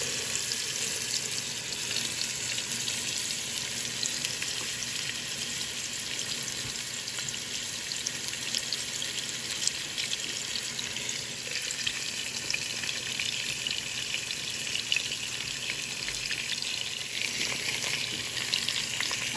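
Beef ribs sear in a pan on medium heat with fat rendering, making a continuous dense crackling sizzle that stays even and close throughout.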